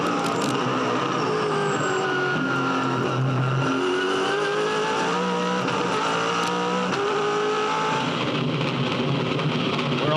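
Onboard James Courtney's V8 Supercar racing at the Adelaide 500 street circuit in 2007, engine loud and continuous for the whole stretch, pitch climbing and falling through gear changes.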